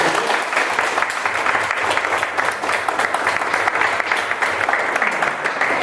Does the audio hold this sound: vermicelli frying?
no